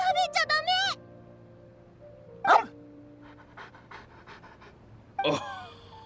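A dog panting in the game Genshin Impact, quick soft breaths heard between bursts of character voices and chiming in-game sounds, with light background music underneath.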